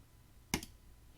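A single sharp computer mouse click, brief and close, against a quiet background.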